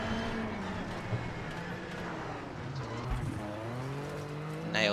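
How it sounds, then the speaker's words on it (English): A car engine roars steadily and drops pitch through a gear change, revs sliding down then climbing again, loud and close the whole time. "I love the sound of that downshift"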